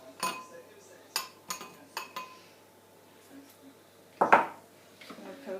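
Gingerbread cookie dough being mixed in a bowl gives a few scattered clinks and knocks of a utensil against the bowl, with a louder clatter near the end and quiet gaps between.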